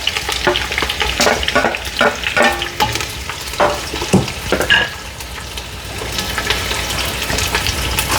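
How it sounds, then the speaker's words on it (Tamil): Onion, garlic and green chili sauté in hot oil for a crab curry, giving a steady close sizzle with repeated scraping stirs and clinks throughout. "இப்போ நாங்கள் வதக்குறோம்."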